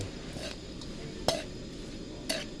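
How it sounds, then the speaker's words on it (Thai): Rat meat is stir-fried with neem leaves in a pan over a fire, with a steady low sizzle and a few sharp scrapes and clinks of a spatula against the pan. "ขัวครับขัว เข้ากัน"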